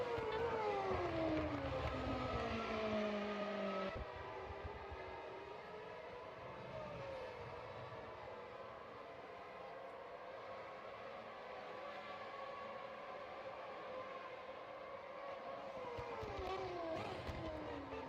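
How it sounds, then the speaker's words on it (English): Race cars in the Automobilista 2 racing sim rush past the pits, their engine whines rising and falling in several sweeping pass-bys, heard faintly from a distance with no talking. "Just sitting in the pits, hearing the other cars fly by."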